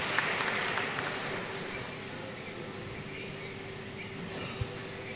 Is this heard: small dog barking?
no